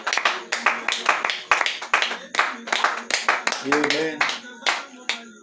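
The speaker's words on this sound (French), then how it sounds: "Acclamez fort." A congregation at a night prayer service claps in a brisk, steady rhythm, sharp and close, while voices call out and sing over the beat.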